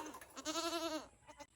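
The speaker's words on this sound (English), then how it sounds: "See the baby goats! They're so big now." Young goats on a farm bleat in a few wavering, close calls, one long quavering bleat in the middle followed by shorter ones.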